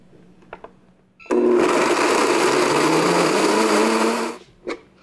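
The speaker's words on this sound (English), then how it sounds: "we're going to just puree this for a minute until it's really," A blender purees a cashew-based vegan cheese thickened with xanthan gum, running loud and steady for about three seconds after a few faint clicks, then stopping, with light handling sounds after.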